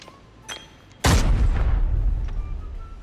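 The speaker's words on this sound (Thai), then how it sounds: "ตอนนี้มีการปาระเบิดเกิดขึ้นครับ" In the video game Arena Breakout, a faint thud, then a sudden loud grenade explosion that booms and slowly decays into rumbling debris, with a small pop near the end.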